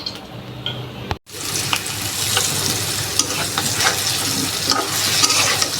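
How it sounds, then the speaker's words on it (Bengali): Spice-marinated rohu fish pieces fry in a pan in a rohu and cauliflower dish, a near, busy sizzle that drops out for a brief moment then returns louder, with spatula scrapes and crackles and no speech. "আর এখানে এগুলো মাছ ভেজে নিচ্ছি।"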